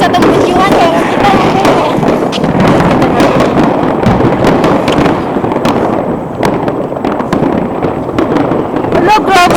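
Fireworks display in Copenhagen, Denmark: dense, continuous crackling bursts and sharp pops throughout, loud and close, with people talking and exclaiming over the barrage.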